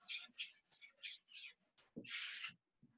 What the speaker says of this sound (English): take your sanding block and go off the surface of the wood